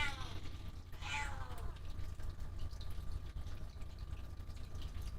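A cat gives a clear, drawn-out meow up close near the start, then falls quiet over a low steady background hum with faint running-water noise.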